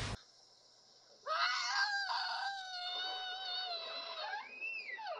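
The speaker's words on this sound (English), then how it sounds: "That's the sound of the Jersey Devil." Eerie shrieking cry attributed to the Jersey Devil in a documentary, a long wavering high-pitched wail with bending, crowing-like tones, rising and falling over several seconds, loud and alone.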